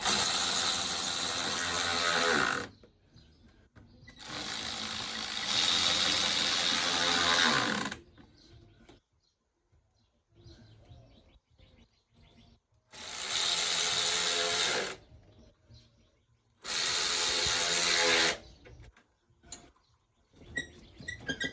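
A ratchet tightening fuel injector bolts on a 1990 Ford F150 4.9L 300 engine, four loud bursts of rapid, close clicking, each lasting two to three seconds, separated by near-silent pauses.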